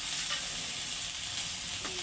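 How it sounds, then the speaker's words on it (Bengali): Onions and potatoes fry together in a pan for an egg dish, giving a soft, continuous sizzle with faint stirring, quiet and close, with no voices. "তাহলে পেঁয়াজের সাথে আলুগুলির সাথে পেঁয়াজগুলিও ভাজা হয়ে দেবো ভালো করে"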